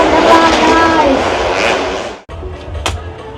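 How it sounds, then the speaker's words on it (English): Motorcycles ride inside an enclosed arena at the Thammasat University night market north of Bangkok, Thailand, giving a loud, continuous engine roar over crowd chatter that cuts off abruptly, leaving quieter market background and voices. "It sounds like they got the motorcycles twirling around in there"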